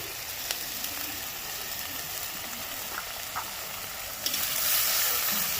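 Spices and onion paste crackle in hot oil in a pan for a potato curry, making a steady, even sizzle with a few sharp pops that swells louder toward the end, with no voices.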